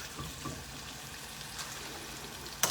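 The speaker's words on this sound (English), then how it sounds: "Just want to get a little sear on them." Steaks for steak Diane sear in a hot pan with a soft, continuous sizzle and crackle, faint and even throughout, with a brief sharper noise at the very end.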